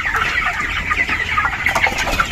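Dense flock of chickens clucking steadily inside a poultry farm shed, many overlapping birds murmuring close by with no pauses, at evening feeding time after grain has been scattered.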